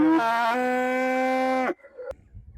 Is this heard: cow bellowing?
yes